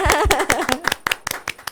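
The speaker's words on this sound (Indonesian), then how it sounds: "Tepuk tangan dulu biar semangat." A few people clap hands in short, uneven bursts of sharp, close claps that follow brief talking at the start and fade into scattered single claps.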